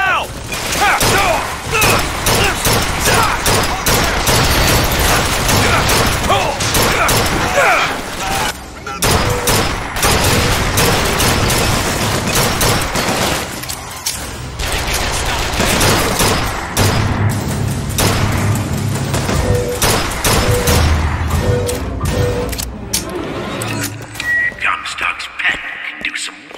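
Automated turret firing in the Bioshock Infinite shooter, a dense, continuous barrage of rapid shots with thuds and mechanical clatter filling the scene, loud and sustained, with voices talking over the gunfire.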